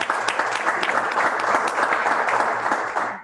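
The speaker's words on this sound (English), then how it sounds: "if we could all just give a round of applause for Todd" A meeting audience gives a short burst of dense, steady applause lasting about three seconds, then it fades out.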